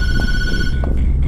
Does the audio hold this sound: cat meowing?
no